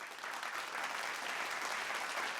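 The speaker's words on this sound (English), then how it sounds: "So a big round of applause for them," Audience applause at an Indian infrastructure and electrical safety event, a dense steady wash of clapping from a seated crowd, moderately distant and unbroken.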